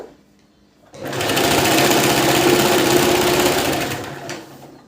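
Electric sewing machine stitching blouse cloth: after a second of quiet near silence, a close, steady rapid mechanical chatter runs for about three seconds, then slows and stops.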